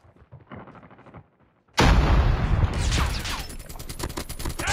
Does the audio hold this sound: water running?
no